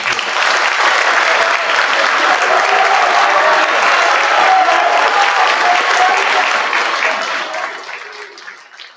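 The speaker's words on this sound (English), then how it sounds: "Y'all give them a big round of applause." A crowd at a school athletic awards ceremony claps for players in a dense, steady round of applause that holds strong for about seven seconds and then thins out and fades near the end.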